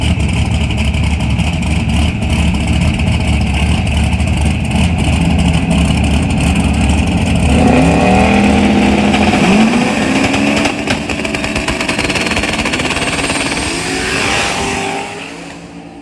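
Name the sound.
boosted old car revving and accelerating at street race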